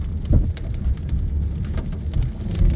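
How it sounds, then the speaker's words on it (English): Rain falls on a car driving through roundabouts and over traffic humps on the way to work, a steady wash of drops with low road rumble and a few sharper taps, close and continuous. "All right, so here comes the rain."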